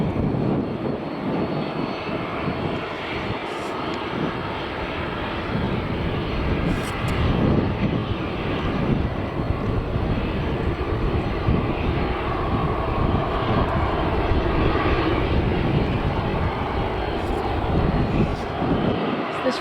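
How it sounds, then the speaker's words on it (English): Ryanair Boeing 737-800 jet taxiing at Manchester Airport: a steady, loud engine roar and whine that persists throughout, heard from outdoors with wind noise and a voice talking over it. "So this Ryanair Boeing 737-800 that's going to Brussels"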